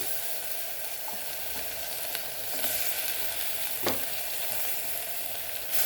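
Tomatoes hit frying onions for dal fry, giving a steady crackling sizzle with occasional stirring clicks and scrapes, no talking.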